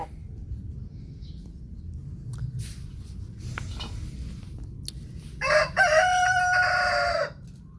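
A rooster crows loudly near the end, rising above a steady low rumble of background noise with faint bird chirps earlier.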